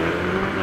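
A car engine hums and revs steadily in a brief burst, close and fairly loud, with no voices.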